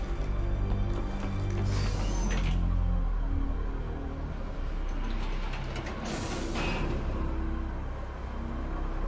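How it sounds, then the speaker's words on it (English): A lift climbing a shaft in the video game Mass Effect 3 gives off a steady mechanical grinding and ratcheting rumble with clanking gear-like texture that holds throughout, loud and continuous with brief higher whooshes. "Okay, I'm in the shaft. Hang on. This'll be a fast climb."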